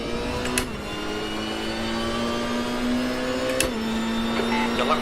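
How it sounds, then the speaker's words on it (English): A GT3 race car engine in the RaceRoom racing game whines steadily from inside the cockpit at Bathurst, its pitch stepping up through gear shifts with brief clunks between. "Enjoy the sound of JB coughing and the nice in-car sounds of Competizione P4-5"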